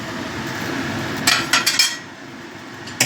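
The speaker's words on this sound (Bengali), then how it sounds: "ঢাকাটা আমি খুলে দিলাম।" A lid is lifted off a pan where bhetki fish paturi is cooking, giving a few sharp metallic clinks and scrapes over a low steady background hum, then one more clink after a pause.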